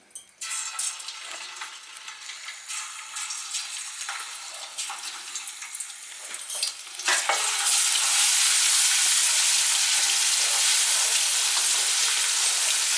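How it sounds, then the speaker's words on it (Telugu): Ginger garlic paste frying in hot oil for a chicken dish, a steady broadband sizzle with scattered scraping stirs that swells sharply louder halfway through and holds loud and close to the end, no voices. "నూనె కాగిన తర్వాత అల్లం వెల్లుల్లి పేస్ట్"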